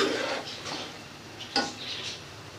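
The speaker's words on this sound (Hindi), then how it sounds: "अब मैं इसको भूनूंगी।" Mash dal being stirred and fried in a pan on a stove: soft scraping and clinking of a utensil against the pan, with faint sizzling and no talk.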